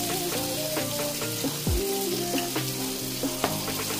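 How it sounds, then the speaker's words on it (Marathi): Hot oil sizzles in a heated nonstick kadai as onions fry for birista. A steady frying hiss carries faint tonal hums, with a couple of brief clunks of utensils and no talking. "तर आता कढई चांगली तापली आहे तर मी जे कांदा फ्राय करायला तेल घेतलेलं"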